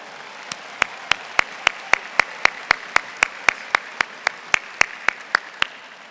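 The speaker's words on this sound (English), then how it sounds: "another round of applause" Audience applause at a university fall commencement ceremony: sharp, evenly spaced claps in a steady rhythm ring out above a soft, continuous crowd wash, at moderate level throughout.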